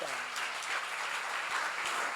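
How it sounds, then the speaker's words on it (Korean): A church seminar congregation clapping together, a dense continuous burst of applause filling the room for a couple of seconds. "박수."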